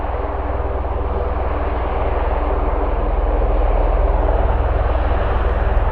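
A V-22 Osprey tiltrotor at an airport drones as a loud, steady low engine rumble with a pulsing rotor beat, growing slightly stronger toward the end.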